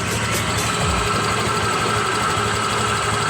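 A Honda Click 125 scooter engine with a faulty tensioner idles close by, a loud steady mechanical whir with a fine rapid ticking running through it, no talk.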